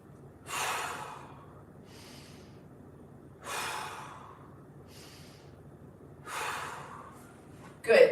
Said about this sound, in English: 3 big breaths.